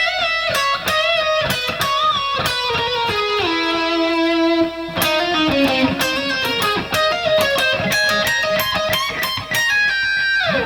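Distorted electric guitar plays a solo section, a fast run of picked and legato notes with slides and bends, loud and alone without talking.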